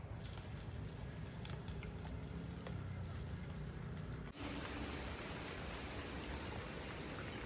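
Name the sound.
rain falling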